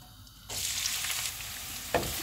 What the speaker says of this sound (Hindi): ऑयल गर्म हो गया, इसमें प्याज डाल देंगे।